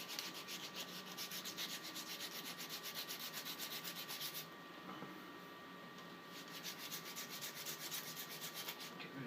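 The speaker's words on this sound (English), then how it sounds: "Yeah, so some 80 grit on there." Coarse 80 grit sandpaper rubs rapidly back and forth over an aluminium sword grip, a steady rhythmic scratching close up with a short pause midway, no talk.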